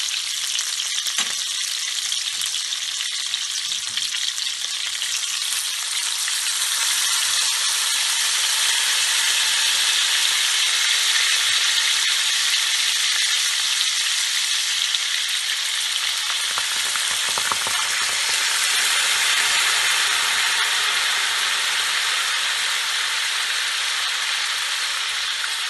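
White wine sizzles loudly in a hot pan of frying meatballs for Italian polpette alla pizzaiola, a dense steady hiss that continues throughout, close by with no talking.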